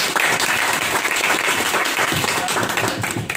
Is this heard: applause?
yes